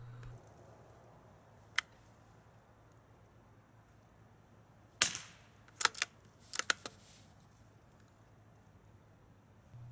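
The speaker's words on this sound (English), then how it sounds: "The FVSR was built from the ground up to be a precision suppressed rifle." A suppressed Savage Mk II FV-SR .22 rifle fires a single muffled crack, then after a pause a quick cluster of sharp, dull shots over a quiet outdoor background.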